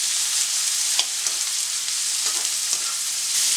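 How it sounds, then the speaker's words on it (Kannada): Four chopped onions frying in hot oil in a pan for chicken mumtaz, a loud, steady close-up sizzle with a few sharper crackles and stirring scrapes, no voices. "ಈಗ 4 ನೀರುಳ್ಳಿ ಕಟ್ ಮಾಡಿ ಇಟ್ಟಿದ್ದೀನಲ್ಲ, ಅದನ್ನ ಈಗ ಹಾಕ್ತಿದ್ದೇನೆ. ಸ್ವಲ್ಪ ಹೊತ್ತು ಫ್ರೈ ಮಾಡ್ಕೊಳ್ಳೋಣ."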